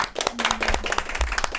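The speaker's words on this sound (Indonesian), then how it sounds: "Tepuk tangan dulu deh buat kita semua deh" A small audience at a talk show on women, fashion and personality claps in a brief, uneven round of applause, with sharp individual hand claps standing out close by.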